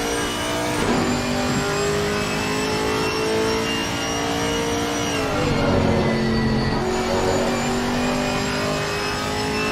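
A gold and white Chevrolet Camaro GT race car in the Assetto Corsa Competizione racing game, its engine roaring steadily at high revs with pitch shifts as it changes gear and corners during a qualifying lap.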